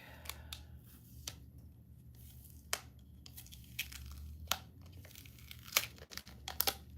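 Peeling back a plastic backing sheet during a craft session produces faint, intermittent crinkling and crackling with sharp snaps, heard close in a quiet room.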